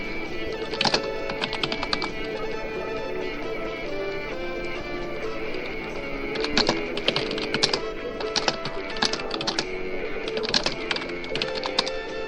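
Rapid typing on a computer keyboard, close and steady, with bursts of quick key clicks and brief pauses as a message is written, no voices.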